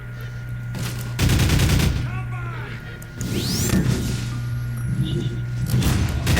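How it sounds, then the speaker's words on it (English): Gunfire from the pulse rifle in Half-Life 2, heard as loud bursts of blasts and thumps with rapid repeated shots over a humming background, while enemy radio chatter and other game sounds come in between. "Let's try this pulse rifle alt fire then"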